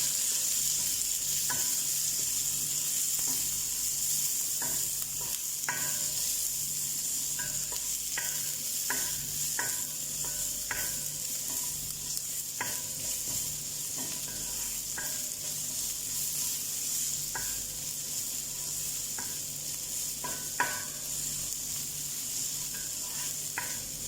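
Sliced onion and the white part of spring onion frying in a pan for hakka noodles sizzle steadily while a spatula stirs with repeated light clicks and scrapes, close and uninterrupted by speech.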